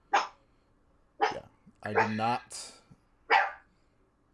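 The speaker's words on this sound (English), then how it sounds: "I've got barking dogs." Several dogs bark in short, sharp bursts, spaced apart across a few seconds, with a person talking briefly between them.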